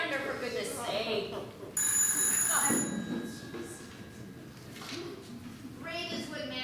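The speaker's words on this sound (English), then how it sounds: "At the telephone." A telephone bell at a desk in a manor house rings in a bright burst, trills again shortly after and once more near the end, with people talking around and between the rings.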